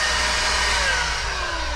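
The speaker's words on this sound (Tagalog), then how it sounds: "tapos i-blower ko yung ilalim palabas." Dirt blower blowing debris out from the floor inside a truck trailer: a continuous, loud, close high-pitched whine and rush of air with a slowly drifting pitch.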